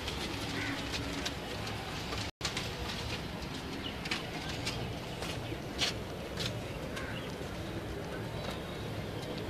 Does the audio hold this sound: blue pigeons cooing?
yes